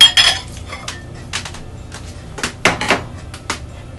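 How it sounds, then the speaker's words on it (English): Cut mango and banana being placed into a fruit bowl in a home kitchen, a string of short clinks and knocks of fruit and utensils against the bowl, sharp and close, with quiet gaps between. "I'm going to put these in the fruit bowl."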